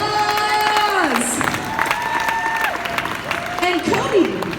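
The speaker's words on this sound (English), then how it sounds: "Let's give our first winning bidder a huge round of applause." An audience at a 2019 charity foundation auction applauds a winning bidder, a continuous wash of clapping and cheering under a loud announcer's voice.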